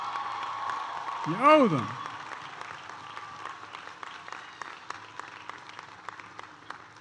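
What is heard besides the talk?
audience applause at graduation ceremony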